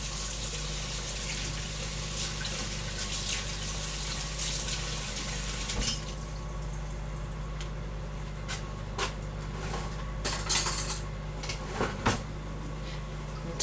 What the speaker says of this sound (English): let me wash my hands again.